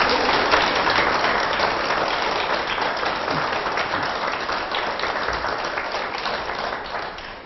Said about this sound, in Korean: 여러분, 정조한테 박수 한번 주세요.